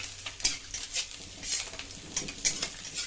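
Cumin seeds and bay leaves sizzling in hot oil left from frying potatoes in a home kitchen, a steady crackling sizzle with the scrape and clink of a stirring spoon against the pan, close and without talk.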